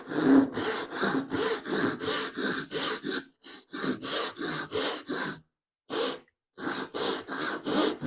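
Hand crosscut saw cutting through wood: a steady run of rasping back-and-forth strokes, close and moderately loud, with a few short pauses between bursts and no talking.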